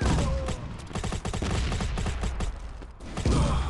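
Grenade blast and rapid gunfire in the video game Modern Ops, a dense run of sharp shots and mechanical clatter filling the whole stretch, loud and close with no voices.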